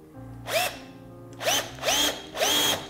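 A power drill with a 6 mm bit bores into a plastic cola bottle in four short, loud, whining bursts, one alone and then three in quick succession, with a faint hum in the pauses.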